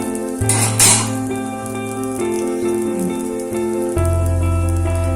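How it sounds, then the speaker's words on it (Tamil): Tomato dosa cooking in oil on a pan, a steady close sizzle with a sustained tonal hum and occasional light clinks, moderately loud throughout with no talking. "தோசைய சுத்தி நம்ம எண்ணெய் விடணும்."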